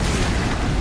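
A single short bomb blast from the video game Horizon Zero Dawn, a loud, full-bodied boom filling the brief moment with no voices.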